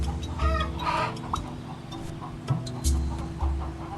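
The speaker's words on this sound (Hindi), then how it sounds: "फिर ये मुर्गियां हैं, मुर्गियां ने अंडे दिए हैं" Hens on a poultry farm cluck in short, scattered bursts at close range, with low rumbling in the background and no voices.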